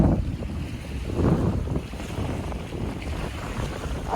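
Strong wind sweeping over rough, choppy water at Lake Camanche beside a trailer campsite, a loud continuous roar that swells in gusts, with no talking.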